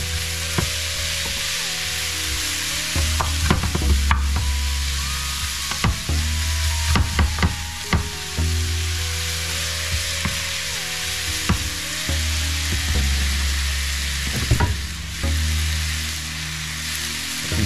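Butter melting and sizzling in a frying pan for liver and onions, a steady close crackling fry with intermittent clinks and scrapes of utensils, no talking.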